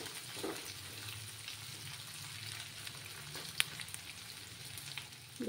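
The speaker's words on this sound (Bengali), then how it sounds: "ভালো করে কষিয়ে নেব।" Spice masala being sautéed in a pan for a katla fish curry: a soft, continuous low sizzle with a few faint clicks of a utensil, quiet and steady throughout.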